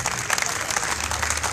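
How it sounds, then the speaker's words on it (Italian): An audience at a talk about noir fiction applauds a guest, many hands clapping in a close, busy patter at steady loudness, with a faint low murmur of voices beneath. "applaudiamolo col nome giusto"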